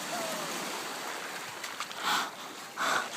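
Ocean waves washing onto a beach with a steady broad surf hiss and two swelling breaks near the end, while people play in the waves nearby.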